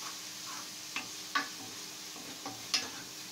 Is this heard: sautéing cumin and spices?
yes